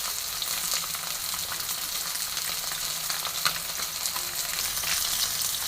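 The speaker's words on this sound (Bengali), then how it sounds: "আর এক পিঠ ফ্রাই হলেই আমি নামিয়ে নেব।" Rohu fish frying in oil after being flipped to its second side, a close, steady sizzle with crisp crackling spits, constant and unbroken, no voices.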